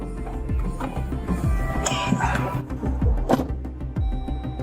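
Dogs bark repeatedly indoors, a string of loud, close woofs and yips at irregular intervals over a busy background.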